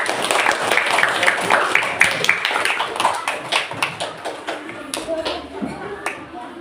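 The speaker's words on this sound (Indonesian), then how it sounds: "kasih tepuk tangan buat kelompok 5" Classroom applause for a student group at an elementary school: a burst of dense clapping from many children that thins out and tapers into scattered claps over several seconds.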